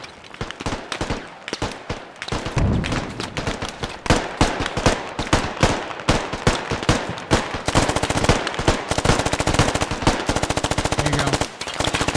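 Machine gun fire in the infantry shooter Squad: loud, close bursts of rapid automatic shots, nearly continuous for about twelve seconds with brief gaps between volleys.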